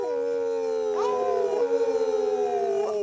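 Young wolves howling together, several overlapping rising and falling wails with yips, close and clear.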